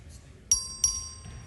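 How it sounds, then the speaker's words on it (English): Legislative voting bell rung by the clerk in the Texas House chamber, two sharp ringing strikes with a lingering tone, then a faint third, over low room murmur. "The clerk will ring the bell."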